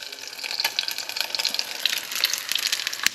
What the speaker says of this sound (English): So she's just cooking the eggs now